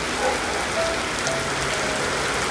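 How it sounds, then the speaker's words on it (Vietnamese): Heavy rain pours down at a moored barge, a dense, steady hiss of drops striking surfaces with no break and no voices. "Mưa tầm tã luôn"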